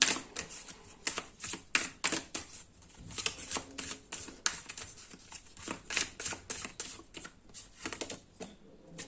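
Tarot cards being shuffled and drawn from a deck, a quick run of crisp riffling clicks and soft slaps, close and fairly quiet, with no talking.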